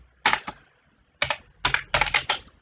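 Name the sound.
typing on a computer keyboard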